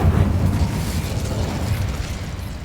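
An Incendio fire spell cast in the wizard game Hogwarts Legacy, a loud rushing whoosh of flame that holds steady for a couple of seconds without fading, with no voices over it.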